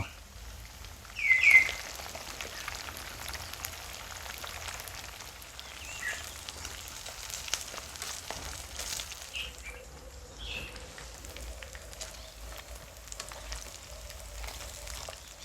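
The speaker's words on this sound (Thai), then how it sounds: "ทอดไฟไม่ต้องแรงทอดไฟกลางๆพอ" Salmon belly frying in oil over medium heat, a faint, steady crackle and patter of fine sizzling bubbles with a brief louder flare near the start, close and quiet.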